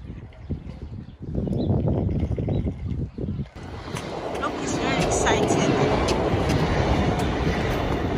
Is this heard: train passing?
yes